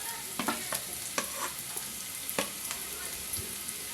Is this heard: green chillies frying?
yes